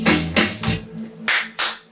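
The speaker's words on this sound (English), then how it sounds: "So I always put some hand claps in places." Crisp hand claps in a produced song, five sharp hits in an uneven rhythm over a low sustained musical tone, close and prominent with no talking.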